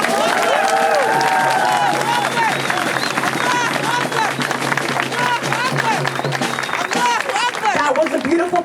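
Crowd at an outdoor protest rally in San Diego clapping and cheering after a performance, a dense sustained wash of applause with scattered voices and babble mixed in throughout.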